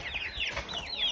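Chickens on a farm in Poland cluck and squawk close by, a quick run of rising and falling hen calls overlapping each other with no talk.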